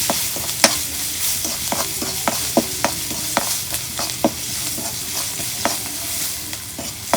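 Spices including salt, turmeric, radhuni powder and chopped onion fry in hot oil in a pan with a steady sizzle, broken by regular sharp clicks of a spoon stirring against the metal.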